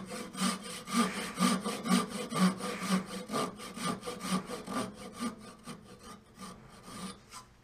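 A Japanese pull saw with a brand new sharp blade cuts a turned wooden newel in rhythmic rasping strokes, about two per second, that are loud and close at first and ease off toward the end.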